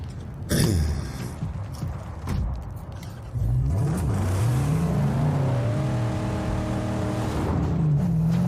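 A car engine drives in the video game Mad Max: a low rumbling motor that revs and rises in pitch, with creaks and knocks over a continuous gritty roar, close and loud.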